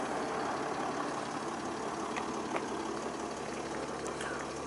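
A Mercedes-Benz R350 CDI 3.0 diesel engine idles at close range, a steady low rumble with a faint rattle and no talking.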